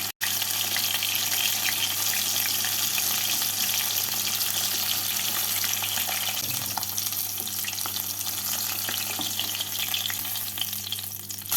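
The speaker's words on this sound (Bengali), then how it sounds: "এভাবে বাকি মাছগুলোকেও ভেজে নেবো" Catfish pieces coated in raw mustard oil frying in a pan, a dense, continuous close sizzle with occasional stirring, steady and loud throughout without any talk.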